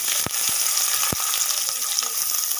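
Onions sizzle steadily in hot ghee for a chicken karahi, a dense crackling fry with a couple of sharp clicks of a utensil near the start.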